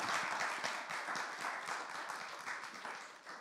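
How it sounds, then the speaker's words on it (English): Audience clapping at a Catholic conference session, fairly quiet and a little distant, a dense patter that gradually fades toward the end. "Y'all clap her up here"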